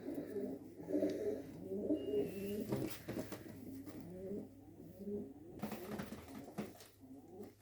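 Pigeons cooing close by, soft low throaty calls repeating in overlapping phrases, with a few light clicks and rustles around them.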